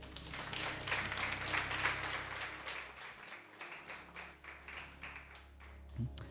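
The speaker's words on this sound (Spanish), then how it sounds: "¿Cuánto le pueden dar un aplauso," A church congregation breaks into applause during a service. The clapping is strongest over the first few seconds alongside sustained low musical tones, then thins out and fades as the sound quiets.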